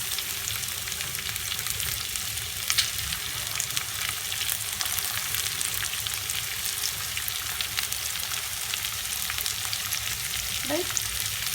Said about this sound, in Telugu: ఇది ఉల్లిపాయలు తొందరగా ఫ్రై కావాలంటే టిప్ ఏంటంటే సాల్ట్ వేసేసుకోవాలి.